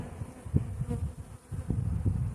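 Honeybees buzzing on a hive frame during a colony transfer with queen replacement, a low continuous hum with soft swells and close individual bee passes, no talking.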